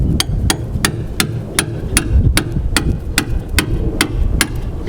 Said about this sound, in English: sometimes you need to hammer this through